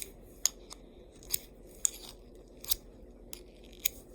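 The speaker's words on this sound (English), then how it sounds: "you take your kitchen knife sharpener, you do it like that, and then you do that, and you keep dragging it." A Swiss Army knife blade is drawn through a kitchen knife sharpener in a series of quick, sharp scraping strokes about half a second to a second apart, close and fairly quiet.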